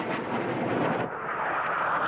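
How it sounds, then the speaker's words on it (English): Military jets roar past low and loud at the RAF Fairford air tattoo, a continuous broadband engine rush that swells and shifts in pitch as aircraft sweep through from different directions. "The 10 aircraft attack from different directions, which is quite realistic"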